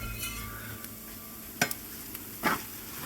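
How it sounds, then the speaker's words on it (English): Oven fried rice being stirred partway through baking, with two distinct clanks of a utensil against the pan over a faint background hiss. "we do need to stir it halfway"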